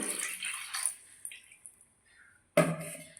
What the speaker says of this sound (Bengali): দেখুন, দিয়ে দিচ্ছি মিক্সির বাটি দিয়ে জল